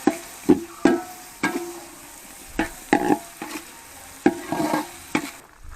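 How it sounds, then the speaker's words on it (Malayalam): Curry leaves being stirred in a frying pan for a spicy beef liver fry, a spatula scraping and knocking in a quick uneven rhythm over a steady sizzle, close and clear with no voices. "കുറച്ച് ഫ്ലേവറിന് വേണ്ടി കുറച്ച് കരിവേപ്പില ഇട്ട് കൊടുക്കാം. ഇനി ഇളക്കിയെടുക്കാം."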